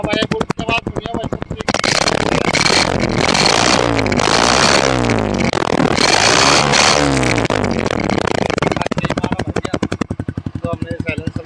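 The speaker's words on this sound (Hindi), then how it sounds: "तो बुलेट की आवाज सुनाते हैं एक बार आपको" A Royal Enfield Bullet motorcycle fitted with side silencers, idling in a rapid thumping putter, then revving hard into a loud, sustained roar with several throttle blips before settling back to a fast idle close by.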